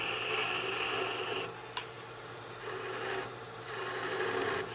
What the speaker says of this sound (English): Take my gouge back again.